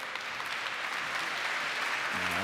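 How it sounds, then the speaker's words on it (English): A conference audience at the Hamburg Sustainability Conference applauding the stage team, moderately faint, steady clapping from a distance, with a low hum entering near the end. "Let's give the team a round of applause for making this here"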